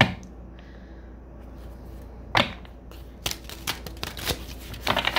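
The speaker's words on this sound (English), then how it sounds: "I'm going to go ahead and shuffle and pull one card from each deck" Tarot card decks shuffled by hand in a quiet room, a faint riffle at first, then a sharp flurry of rapid card flicks and snaps building toward the end with no talking.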